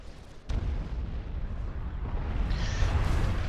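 Artillery fire in the real-time strategy game Supreme Commander 2: a sharp boom starts a rumbling, continuous barrage of heavy low blasts and explosions that builds slightly louder toward the end.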